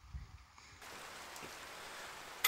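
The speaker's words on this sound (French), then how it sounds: "Si vous entendez du bruit, bah, c'est qu'il est en train de pleuvoir." Steady rain falling outdoors, a soft broadband hiss that starts abruptly after a brief quieter opening and then continues evenly and close, with no voices.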